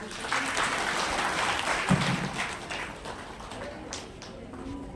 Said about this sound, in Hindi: हम उनका एक बार स्वागत करते हैं तालियों से।